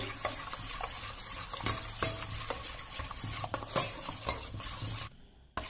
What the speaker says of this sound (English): Now I have mixed the cinnamon powder thoroughly.